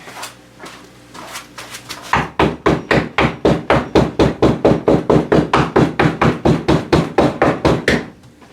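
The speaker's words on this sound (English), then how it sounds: "Let me get a hammer. I'm going to tack those in there." A hammer drives tacks into a taxidermy wall pedestal, about twenty sharp, evenly spaced close blows after a few lighter taps, loud and steady with no talk.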